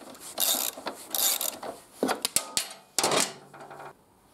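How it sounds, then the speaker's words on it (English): A wrench loosens the brake nut on a Daelim VS 125 chopper wheel with a series of metallic ratcheting and clanking bursts, each separated by short pauses, heard close up and without any talking. "To get the brake off the wheel, we need to loosen this one."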